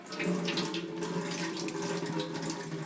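Water drains steadily from a guppy fish tank in a continuous, even trickling rush that stays close and moderately loud throughout.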